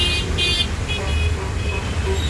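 Mumbai road traffic during rain, with a constant loud roadway rumble and a couple of short car horn toots early on, near and busy.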